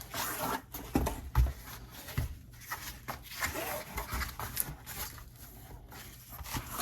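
A cardboard record shipping mailer has its edge folded over by hand, giving close, scratchy rubbing and creasing sounds in short bursts with a few sharper crinkles, and no voices.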